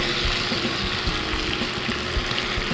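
Flour-coated food fries steadily in a pan, a dense, continuous sizzle and crackle that holds close and loud throughout with no pauses.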